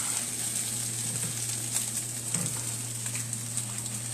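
Korean street toast fries in a hot iron skillet with a steady, even sizzle, close by and continuous, with a brief soft stir or shuffle partway through and no talking.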